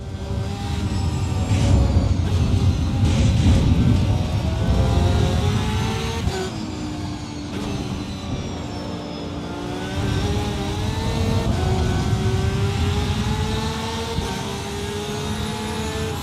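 A race car engine in the sim racing game Assetto Corsa Evo drones and revs steadily, loud and close, with the pitch sweeping up and down through gear changes and shifting throttle.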